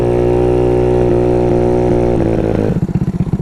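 A Honda Ruckus scooter engine idles steadily with a smooth, even putter, then sputters into a rougher, pulsing rhythm near the end.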